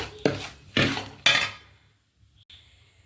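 A spoon scrapes and knocks through thick avalose mixture in a pan, three loud strokes in quick succession followed by quieter faint clinks, with no voices.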